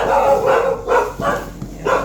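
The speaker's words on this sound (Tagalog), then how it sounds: "Nagtahulan na." Several dogs bark in a quick, steady run of about five loud, close barks over two seconds, with no talking.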